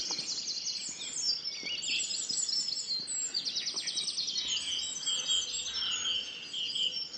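Small birds, including blue tits, chirp and trill in a busy, overlapping chorus of rapid high calls, fairly faint and continuous, with occasional soft clicks beneath.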